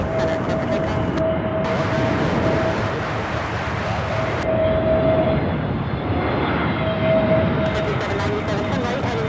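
An airliner taking off from runway 18 Center at Charlotte Douglas International Airport gives a loud, sustained roaring engine rumble, with air traffic control radio chatter breaking in over the noise.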